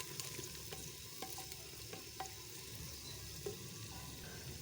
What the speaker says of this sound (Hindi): अब हम इसमें डालेंगे अदरक लहसुन का पेस्ट। इसको हल्का सा फ्राई करेंगे।